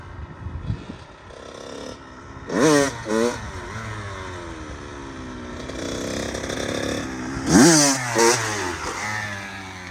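Motorcycle engine revving sharply during wheelie practice, with two pairs of quick clutch-pop bursts that rise and fall, a mechanical rattle and idle between them, close and loud.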